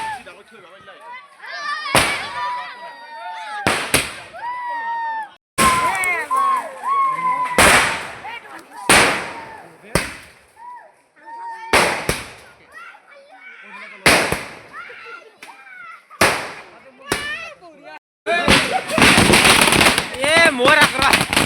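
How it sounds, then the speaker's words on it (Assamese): Firecrackers and rocket bombs going off at a wedding in Assam: a rapid series of loud, sharp bangs and crackling bursts close by, with a dense crackling barrage near the end, amid excited voices and talk. "গাইছ ৰকেট বোমা পুৰা গাইছ কি বোমা মাৰি আছোঁ"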